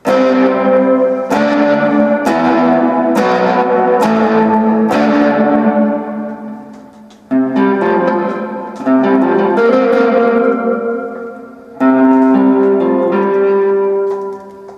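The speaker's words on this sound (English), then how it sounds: "This should be the most reverb." Electric guitar chords strummed one after another through an XVIVE Maxverb pedal on its hall setting, each washing into a long, spacious reverb tail that rings and blends between strums.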